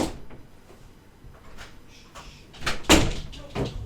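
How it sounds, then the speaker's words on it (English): A room door opens and closes indoors, with soft handling noises and then a few louder knocks and thuds from the latch and frame, moderately near. "So sorry for the door opening and closing."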